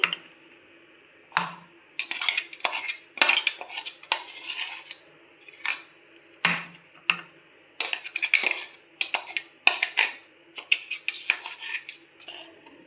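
A spoon scrapes freshly ground garlic chutney out of a grinder jar into a small bowl, giving close, repeated clinks and scrapes of metal on steel in irregular bursts, with no talking.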